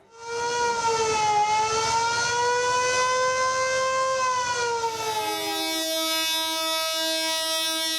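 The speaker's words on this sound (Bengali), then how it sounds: "লঞ্চ ট্রেনের হুইসেল বেজে উঠতেই যাত্রীদের মাঝে ছড়িয়ে পড়ে আনন্দ উচ্ছ্বাস" A long, loud train or launch whistle sounding at a busy Bangladesh station during the Eid homeward rush, one sustained wavering tone that dips and then settles into a steady harmonic blast.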